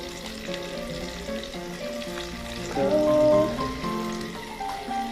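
Food frying in hot oil, with a steady crackling sizzle throughout and a slightly louder burst partway through, no voices.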